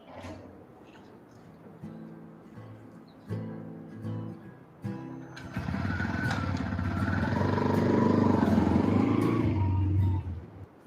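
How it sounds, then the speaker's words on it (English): A motorcycle passes on a foggy morning, its engine swelling from a low rumble into a loud, sustained roar over several seconds before fading, with quieter talk and sounds beforehand. "I like the sound of the motorcycle going on."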